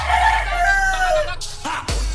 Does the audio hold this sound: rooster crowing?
yes